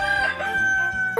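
A rooster crows one loud, close cock-a-doodle-doo, its drawn-out call ending in a sharp rising note.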